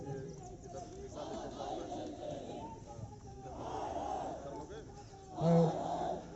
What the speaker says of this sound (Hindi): काफ़ी उग्र भीड़